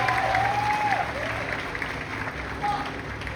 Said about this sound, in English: Yes, clap it up for Miss Ortiz